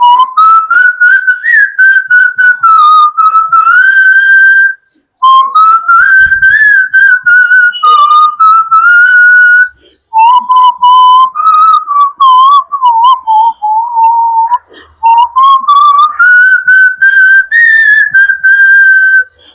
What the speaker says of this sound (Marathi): मी शिट्टीतून गाणं म्हणून दाखवणार, ते गाणं कुठलं आहे हे आम्हाला आवर्जून कळवा.